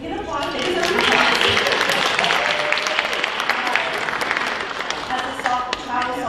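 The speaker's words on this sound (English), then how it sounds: "They can applaud." Applause from a hall audience at a college hall of fame ceremony, steady clapping and crowd murmur filling several seconds with some cheering voices mixed in.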